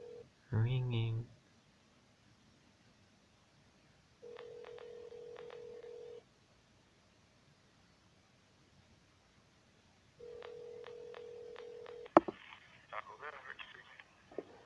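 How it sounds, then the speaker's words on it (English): A phone call to Taco Bell rings twice in long electronic bursts separated by a pause, preceded by a brief voice and followed by faint clicks and talk. "Ringing."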